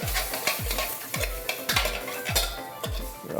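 Shrimp sizzle loudly in a hot pan while a utensil stirs and scrapes in a steady rhythm about twice a second, close up with no voices.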